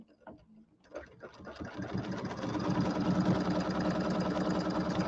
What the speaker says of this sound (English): just stitch along the edge